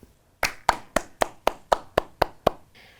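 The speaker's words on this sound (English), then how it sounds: "Let's give them a clap." A classroom clap: nine crisp, evenly spaced hand claps in a steady rhythm, close and isolated against a quiet background.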